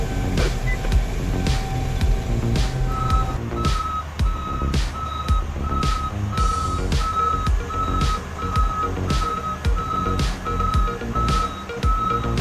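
A Belaz mining truck reverses in a rainy quarry, its steady, evenly spaced reversing beeps ringing out loud and close over the deep rumble of the heavy diesel engine, with no talk.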